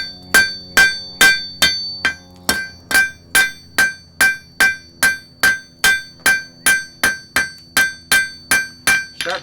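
Blacksmith hammering hot iron on an anvil, drawing out a point: a long, steady run of loud, ringing strikes spaced evenly about twice a second, close by, with no talk.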